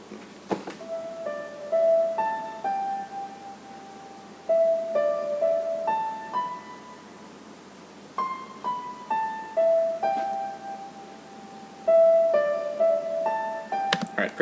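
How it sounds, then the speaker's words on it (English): A simple melody on the C pentatonic scale, with a few major-scale notes added, played as clear single tones in short phrases over a quiet background, moderately soft and close. "just messing around with a C pentatonic scale"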